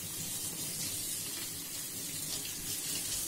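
Vegetables being washed under a running kitchen tap, a steady close rush of water with faint splashing throughout, no voices.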